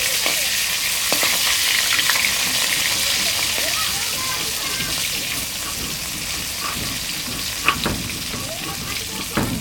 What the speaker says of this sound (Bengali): লাল লাল করে ভাজতে হবে।